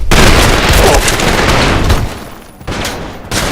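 Assault rifle resembling a G36 firing in the video game Trepang2: loud, dense bursts of rapid gunfire with heavy booming impacts that keep going with brief dips, and no talking.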